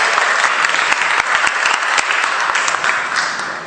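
Applause from a seminar audience for the volunteers, a dense, steady wash of many hands clapping together, fairly loud and fading slightly at the end, with no voices over it.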